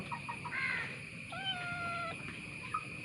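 A kitten gives a few thin, high meows, one longer drawn-out cry in the middle, over a constant background hum.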